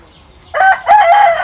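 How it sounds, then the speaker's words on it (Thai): A rooster crows in the early morning, two loud, close calls in quick succession, the second one longer and drawn out, standing alone against quiet surroundings. "คลิปนี้พาทุกท่านมาฟังเสียงไก่ขันครับ"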